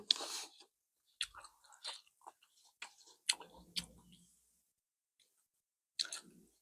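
Close-up eating of steamed squid with a spicy dipping sauce: sparse, crisp clicking and wet chewing bites in short bursts, separated by quiet pauses.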